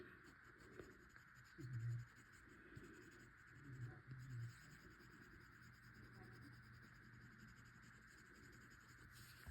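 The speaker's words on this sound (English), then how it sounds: "I still hear the scratchiness from the tooth of the paper" Faint, steady scratching of a Prismacolor Premier colored pencil dragged across toothy paper, with soft, uneven strokes over a low background hum.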